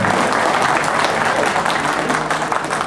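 A festival crowd in Gölbaşı at the Kale olive and culture festival applauds, a dense, continuous wash of many hands clapping at close range with no speech.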